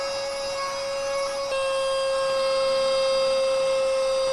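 A budget portable vacuum cleaner runs in blower mode with a steady, loud, high-pitched motor whine and a faint hum underneath, shifting pitch slightly partway through.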